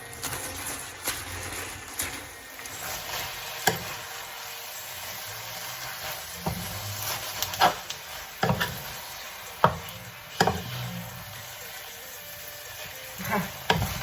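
Noodles stir-fried with wild garlic flowers and leaves in a sauce, cooking down until dry, give a steady close sizzle with a series of sharp spatula scrapes and knocks against the pan throughout, no talking.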